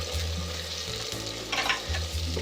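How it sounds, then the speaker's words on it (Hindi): Chopped ginger and garlic fry in a pan with tomatoes and onion for an Indian aloo palak methi sabzi, a close sizzle under a low humming hob with brief stirring scrapes. "अदरक लहसुन को 2 मिनट तक भुना है मैंने"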